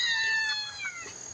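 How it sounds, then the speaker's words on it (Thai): A small kitten gives one or two high, thin meows close by, fading out quickly with no talking. "มาตื่นเต้นได้ยินเสียงเมียวน้อยร้อง"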